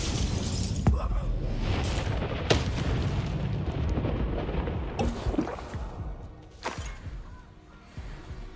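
A fire spell bursts out in the Hogwarts Legacy video game, a loud roaring, crackling blast with sharp impacts and a rumbling tail fading over several seconds, some voice mixed in.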